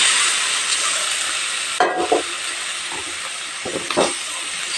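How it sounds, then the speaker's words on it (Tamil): Chicken fries in oil with cinnamon, clove, fennel, chilli powder and pepper masala for a restaurant-style chicken gravy, giving a loud, steady, close sizzling hiss broken by a couple of scraping stirs. "பட்டை லவங்கம் சோம்பு மிளகாத்தூள் மிளகு மசாலா எண்ணெயில் ஃப்ரை பண்ண பிறகு நம்ம சிக்கன் இதில் கலந்துக்கலாங்க"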